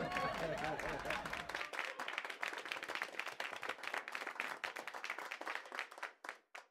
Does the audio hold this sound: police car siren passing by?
no